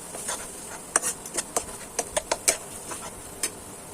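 A spoon tapping and scraping against a bowl while stirring egg with Maggi masala, tomato sauce and a little salt, a series of light, irregular clicks, close and fairly quiet.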